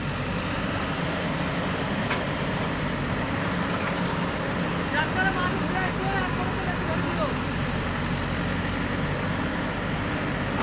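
A Powertrak tractor pulls a load uphill on a cut road. Its engine gives a steady, heavy, low drone throughout, and someone talks over it.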